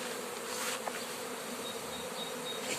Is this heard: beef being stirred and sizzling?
no